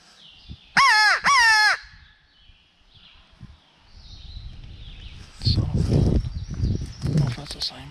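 A crow-like bird in Georgia woods during a hunt gives two harsh, quick caws close together, followed by rustling footsteps and low talking.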